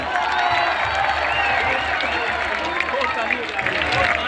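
A huge crowd at an Imran Khan PTI jalsa in Sargodha claps and cheers in a dense, continuous roar that stays loud throughout, with voices mixed into the din.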